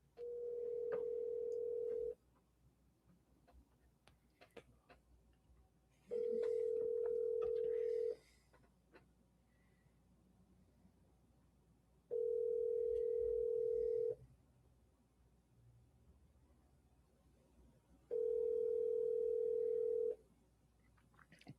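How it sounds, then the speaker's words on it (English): Four evenly spaced ringback tones on an outgoing phone call, each a steady two-second buzz followed by a few seconds of quiet line, faint and with no talking. "So phone is ringing."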